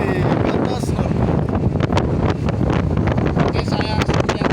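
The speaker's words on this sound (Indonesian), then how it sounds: "Angin kencang melebihi batas normal di pelabuhan Jalan Tanjung Mas Semarang" Strong wind at Tanjung Mas port in Semarang roars steadily and loudly, buffeting the microphone with continuous gusty rumble.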